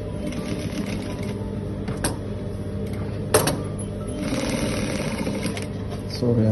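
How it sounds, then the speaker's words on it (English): A sewing machine top stitches a senator placket with a steady, close mechanical whirr, interrupted by a few sharp clicks and thumps as it runs. "Begin to top stitch."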